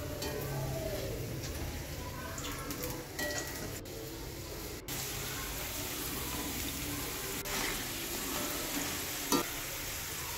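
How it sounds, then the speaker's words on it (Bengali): Potatoes fry crisply in hot oil, a steady close sizzle and bubbling crackle that runs without pause, with a few sharp clinks of a utensil against the pan. "অল্প অল্প দিয়ে ভেজে তুলে নেব লাল লাল করে একদম। একদম খনখন করে আওয়াজ হচ্ছে আলুগুলো।"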